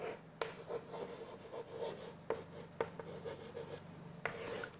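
A teacher writes the solution to a third-grade multiplication problem on a board, with soft scratching strokes and a few distinct taps spaced irregularly, faint against a quiet classroom.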